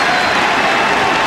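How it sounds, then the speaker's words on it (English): Basketball fans applauding and cheering in a packed arena during a 1999 Phoenix Suns at Portland Trail Blazers playoff game, a steady, loud wash of crowd noise throughout. "the fans applaud the effort"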